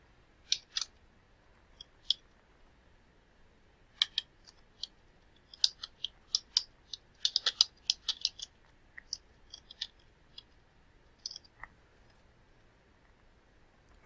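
Keys clacking on a computer keyboard as comments are entered in software, sparse irregular taps that come in short flurries, crisp and close, in an otherwise quiet room.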